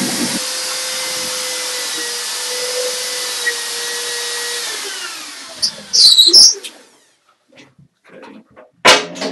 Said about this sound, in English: With the drill, we start at an angle and then drop down as it bites into the wall.